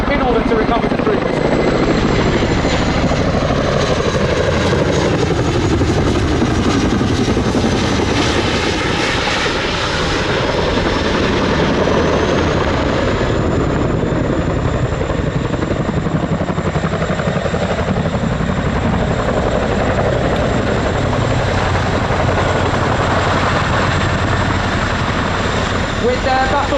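Boeing Chinook twin-rotor helicopter performing a nose-down quick stop at the RIAT 2024 airshow, its loud continuous rotor and engine roar sustained throughout with shifting pitch, while an announcer talks over it.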